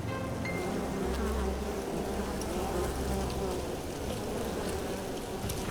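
Dense swarm of honeybees buzzing inside a hive, a continuous close hum of many wings with a few individual bees droning louder nearby.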